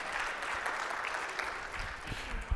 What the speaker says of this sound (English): you can clap, I'm seeing clapping